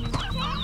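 A hen in the farming game Slime Rancher gives a short, close cluck on its own, a quick burst of throaty clucks that lasts under a second.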